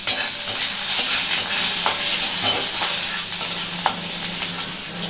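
Chopped onions, added after black cumin seeds, fry in hot oil while being stirred, a loud steady sizzle with scattered clicks and scrapes of the spoon throughout.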